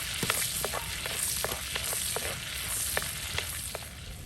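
Whole garam masala of cinnamon, cardamom, cloves and star anise sizzling in melted butter for dhaba-style egg butter masala, a steady quiet frying hiss with scattered crackles and pops.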